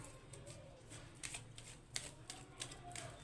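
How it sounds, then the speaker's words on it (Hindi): Tarot cards are shuffled close up and quietly, producing rapid, irregular papery riffles and flicks in short bursts over a faint background hiss. "एक बार और शफल कर रही हूँ"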